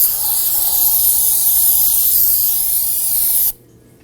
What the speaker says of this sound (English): I'm going to use some spray solvent and clean off the threads here.